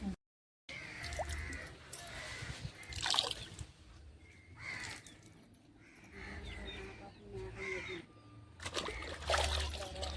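Clothes washed by hand at a well, with wet splashing, dribbling water and slapping of fabric recurring in bursts, crows cawing nearby and voices talking intermittently.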